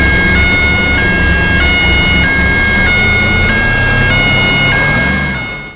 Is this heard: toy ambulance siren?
yes